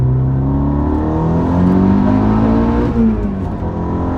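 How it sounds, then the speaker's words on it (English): A tuned 510-wheel-horsepower Volkswagen Golf R pulls hard in second gear from a roll-on, its engine note rising steadily in pitch and loudness as it revs, heard from inside the car with no talking. "All right, we're gonna try a roll on in second gear."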